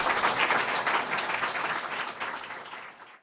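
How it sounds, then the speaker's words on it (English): Audience applauding podcast panelists at the close of a Writers' League of Texas session on short stories: dense, steady clapping from a crowd that tapers off and fades out over a few seconds. "Please give our panelists a warm round of applause"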